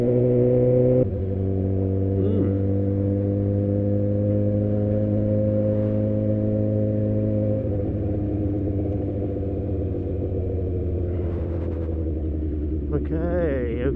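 A car engine drones steadily on a clear road at night. Its low humming tone shifts and rises partway through as the car speeds up, with faint rustling on top.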